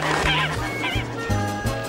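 Cartoon birds squawk and chirp in quick, overlapping bursts, fairly close and busy, with short tonal calls layered over a dense, noisy background.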